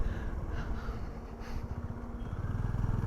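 Motorcycle riding on a road during a solo ride toward Yelagiri, its engine a steady close rumble with throttle pulsing and rising revs toward the end.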